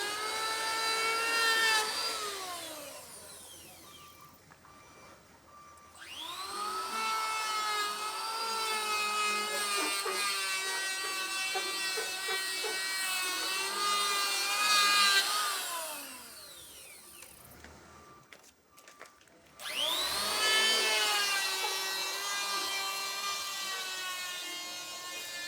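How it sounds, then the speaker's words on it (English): A power planer works wood battens for a container roof in Costa Rica, a loud sustained whining drone in long passes of several seconds each, separated by brief pauses, close by. "He's planing the wood right now."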